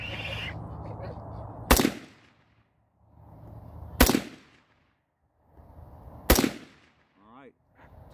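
Three loud, sharp rifle shots from test-firing rounds, spaced a couple of seconds apart, each followed by a brief echoing tail over quieter outdoor background noise.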